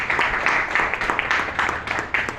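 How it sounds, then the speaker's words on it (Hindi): Applause from a training-seminar audience honoring Dr. Ambedkar, a dense, steady wash of many hands clapping close by for the full stretch, with sharper individual claps popping out of the crowd noise. "एक बार जोरदार तालियां डॉक्टर अंबेडकर साहब के लिए"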